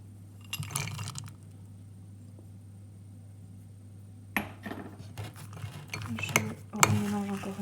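A spoon stirring chocolate mug cake batter with small chocolate squares inside a mug, giving brief scraping clinks and soft wet knocks in two bursts separated by quiet.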